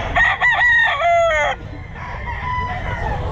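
A rooster crows loudly and close at a busy pet market, one long strained call lasting about a second and a half, followed by a murky background of market noise.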